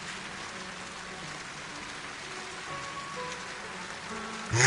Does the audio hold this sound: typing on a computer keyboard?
no